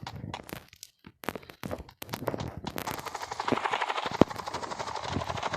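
A helicopter in a Roblox video game gives a steady, rhythmic rotor chop that builds and holds from about two seconds in. Sharp, scattered clicks and thumps come before and through it.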